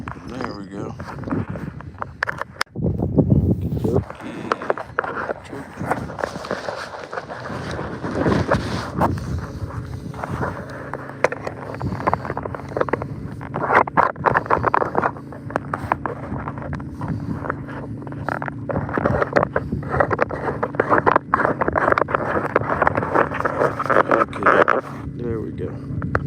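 Wind buffets an outdoor microphone with uneven gusty rumbling and crackling throughout, while someone talks over it.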